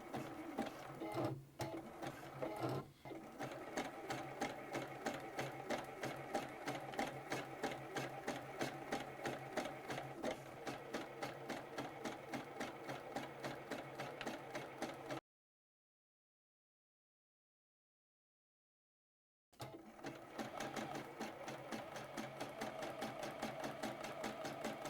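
A sewing machine stitching vinyl runs steadily with a rapid, even mechanical stitching rhythm, close and continuous, stopping briefly before starting up again.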